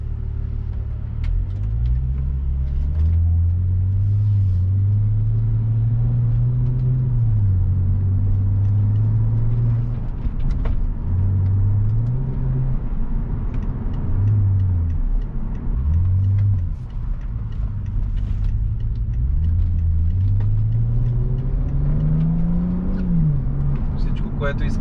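A BMW 535xi E61 wagon, tuned with a JB4 to about 370 hp, cruises on an open road, its engine drone steady and close with rising and falling pitch as it shifts through gears, while someone talks over it throughout.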